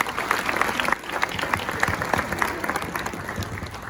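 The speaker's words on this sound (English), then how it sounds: "I think you all owe everybody a nice round of applause." Audience applause fills a girls basketball club's end-of-season banquet, a dense, steady patter of many hands clapping at moderate loudness for the full four seconds.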